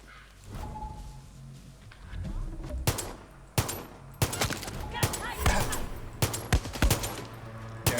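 Rapid gunfire from a rifle in Far Cry 6, loud sharp bursts of shots over steady game ambience, with a voice talking at points.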